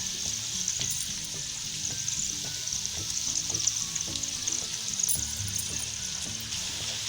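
Chicken fried rice with added vinegar sizzles in a hot pan, a steady close hiss with rhythmic scraping and stirring knocks from a utensil throughout, and no speech.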